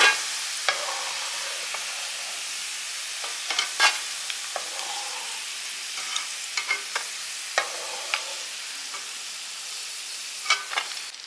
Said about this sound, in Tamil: வெள்ளைப்பூடு வந்து இந்தளவுக்கு செவக்கணும் இப்போ இதை வந்து எண்ணெயிலேருந்து எடுத்துடலாம்